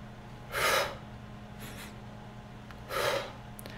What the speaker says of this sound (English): We inhale very deeply and exhale deeply.